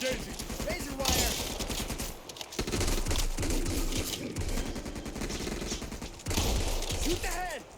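Rapid automatic gunfire in the zombie shooter Back 4 Blood, dense bursts rattling nearly nonstop with short pauses between volleys, loud and close, with game effects mixed in.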